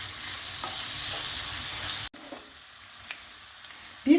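Rice sizzles and is stirred with spices in a hot pan, a steady close frying hiss with a brief break and a few soft scrapes.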